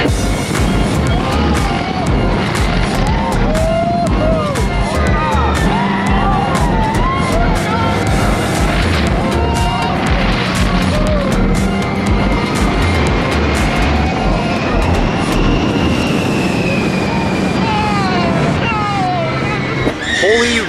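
A loud, busy ride on Radiator Springs Racers at Disney California Adventure, with rushing motion noise and a rumbling vehicle throughout, mixed with excited riders' voices, shouts and screams over the whole stretch.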